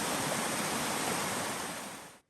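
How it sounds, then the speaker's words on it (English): Water in a creek on a trail at night rushes steadily in a close, loud, continuous wash of noise that fades out at the end. "This is the said creek."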